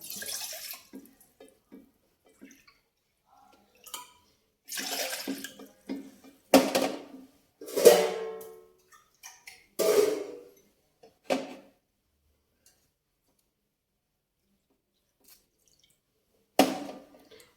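Water from a bowl, three cups in all, pouring into a pan in separate splashy bursts with quiet gaps between them, close by and without voices.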